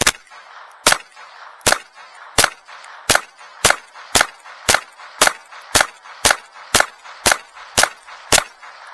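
A steady string of about fifteen loud, sharp gunshots from an FN 502 pistol, fired slow and evenly roughly every half second, each crack followed by a short ringing decay and no talking in between.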